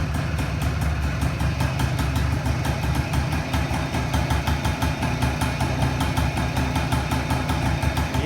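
A Honda Camino moped engine idling with the choke on, a steady close putter with a fast even rhythm and constant vibration, loud and alone with no voices.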